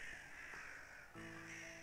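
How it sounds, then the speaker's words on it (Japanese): Crows caw loudly and repeatedly in a horror video game as the player approaches an old Western-style mansion at the end of a path, over a steady eerie ambient drone. "はい、カラスの声。"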